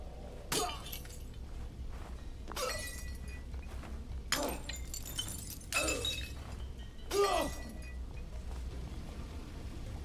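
Glass bottles shatter in a We Happy Few game scene, with several separate crashes spread over a few seconds, each a sharp break with tinkling shards, over steady low background ambience.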